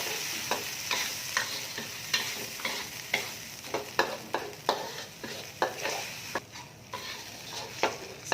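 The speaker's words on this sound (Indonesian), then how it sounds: "Dan ini kita tumis sambalnya." Sambal chili paste sautéed for nasi lemak in a pan, a steady close sizzle broken by a regular series of sharp scraping stirs, roughly one or two each second, with no talking.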